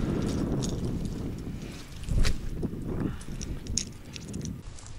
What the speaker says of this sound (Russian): И ветер подул.